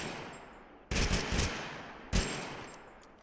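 Burst-fire gun shooting in TABG: two separate short bursts of several rapid shots, roughly a second apart, each followed by a fading echoing tail, with nothing else heard.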